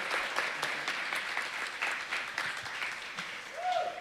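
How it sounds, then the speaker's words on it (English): Audience applause for Espen at a film prize awards ceremony, a sustained crowd of clapping at moderate distance, fairly even with slight swells, with a brief voice near the end. "Another round of applause for Espen"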